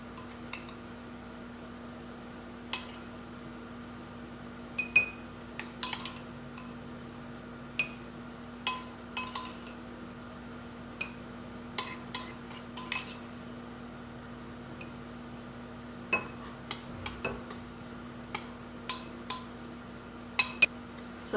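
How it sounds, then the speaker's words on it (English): Seasoning mix is spooned into a glass jar through a small funnel, giving sparse, faint clinks and taps of metal against glass scattered over a quiet background, with no talk. "I'm just going to spoon this into my jar, and I have used a little funnel to funnel it into my jar too"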